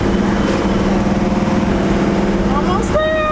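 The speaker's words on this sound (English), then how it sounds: "You can let it rev a little higher, it's fine." A cammed Chevy C10 pickup truck engine rumbles with a steady, loud, droning throb, its pitch edging upward toward the end as it is given more gas, while people talk over it.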